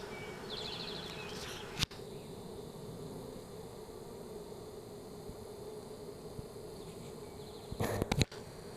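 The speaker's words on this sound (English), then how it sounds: "Cutting bees out of a church." Bees buzzing in a steady, dense drone while being cut out of a church wall, a continuous insect hum filling the space, with a couple of sharp knocks near the start and end.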